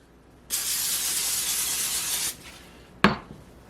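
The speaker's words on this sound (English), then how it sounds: "give this pan a little spray" Cooking spray hisses onto a hot pan while a vegan breakfast sandwich is being made: one steady broadband burst lasting nearly two seconds, then a short sharp clatter of the pan.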